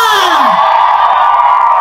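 A crowd at a live performance in Rongai shouts and cheers loudly and continuously, with one falling whoop rising above the roar.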